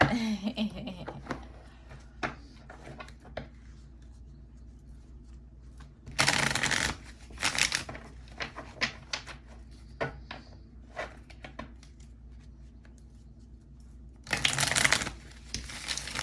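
Tarot cards being shuffled at a reading, two bursts of crisp riffling and flapping separated by quieter handling rustles and taps, close and fairly soft.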